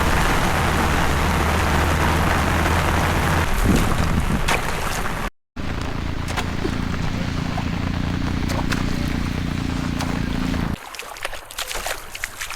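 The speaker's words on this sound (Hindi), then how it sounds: "उस तरफ देख लीजिए, ताले के साइड में कितना ज़ोरदार बारिश आ रहा" Heavy rain pours down steadily beside a lake in Ziro, Arunachal Pradesh, a dense, continuous hiss close to the listener with a low rumble underneath, briefly cut off before resuming at full strength.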